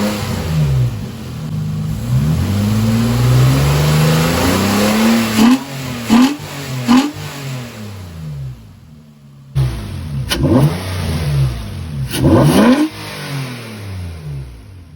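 Nissan Maxima, 7th generation, with a cold air intake, revving loudly up close: a long climbing rev, then several sharp blips of throttle with rising and falling engine pitch.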